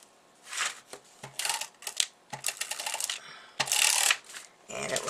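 A handheld tape gun pulls and applies packing tape in a series of sharp ripping, screeching bursts separated by short clicks and pauses, close and fairly loud.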